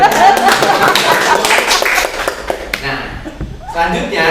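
Group clapping in a classroom during a micro-teaching session, brief and uneven, mixed with chatter, chuckles and a few light taps over the room noise.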